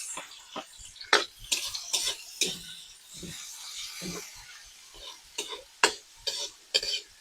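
Tomatoes are sautéed in a pan with ginger: irregular scraping stirs and bursts of soft sizzle come close and fairly quiet, with brief silences between strokes.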